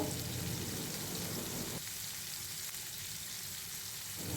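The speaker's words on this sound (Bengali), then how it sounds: "মাংসগুলোকে হাই হিটে ভেজে নিব 10 মিনিটের জন্য" Broiler chicken pieces frying on high heat in oil, a steady, faint crackling sizzle that thins partway through, continuous and close with no talk.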